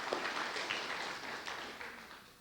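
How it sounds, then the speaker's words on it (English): A small audience at a talk gives a short round of applause, faint scattered clapping that tapers off over a couple of seconds. "So I thought we could all just give her a quick round of applause."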